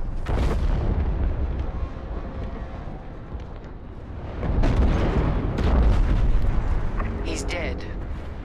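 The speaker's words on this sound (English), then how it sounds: "The frigate is about to explode." A frigate exploding in Star Wars: Squadrons: heavy booming blasts and a rumbling surge of explosion noise swelling midway, with spoken dialogue and ship sounds around it.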